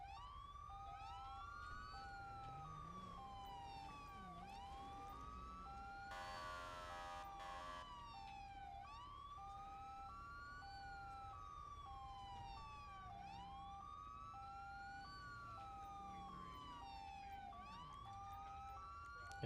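A police car siren in GTA V with the LSPDFR mod cycles through a steady wail, repeatedly rising and falling, with a brief burst of a harsher yelp tone partway through, constant and unbroken.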